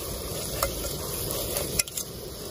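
Curry leaves hitting hot oil with chopped onions for tomato rice, giving a steady close sizzle and hiss with a few sharp crackles and pops along the way.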